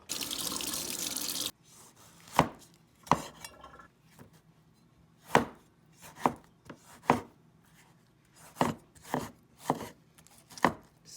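Running tap water stops, then a kitchen knife that needs sharpening dices ingredients for ground beef soup on a board, with a dozen sharp, irregular chops close by in a quiet room.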